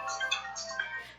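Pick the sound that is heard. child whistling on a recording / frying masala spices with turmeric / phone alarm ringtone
phone alarm ringtone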